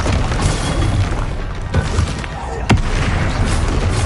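Explosive spell blasts in the video game Hogwarts Legacy boom loudly over a dense rumbling battle din, with a sharp crack standing out near the end.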